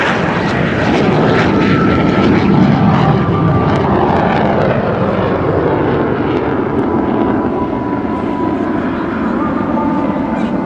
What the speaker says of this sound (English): this magnificent view of his MiG-17 and its unique afterburner. Lighting it up again.